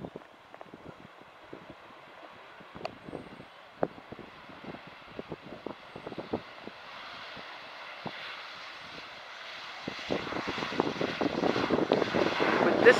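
BE4422 airliner arriving from Berlin at Doncaster Robin Hood Airport, its jet engine roar rising steadily from faint to loud, with scattered wind buffeting and handling knocks near the microphone.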